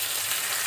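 Whole five-spice seeds and bay leaf sizzle steadily in hot oil, a close, bright, continuous hiss of frying with no voices.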